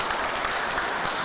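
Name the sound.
audience applause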